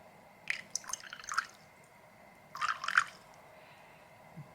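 Water poured into the container of a moka pot in two short, faint bursts of splashing and dripping, close by in a quiet room.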